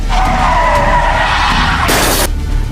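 An SUV sideswipes another car on a bridge and flips, with tires skidding in a loud, sustained screech over engine and road noise, then a sharp burst of crashing impact near the end.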